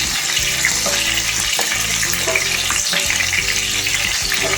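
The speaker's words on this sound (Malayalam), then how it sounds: "എണ്ണയിലോട്ട് ഇടുമ്പോൾ ഉള്ള ആ ഒരു സൗണ്ട് കേൾക്കാനും കാണാനും ഒക്കെ നല്ല രസമല്ലേ" Sliced ginger and green chillies sizzle in hot oil for an apple and orange pickle: a dense, continuous frying hiss, loud and close, peppered with small spattering crackles throughout, with no talking.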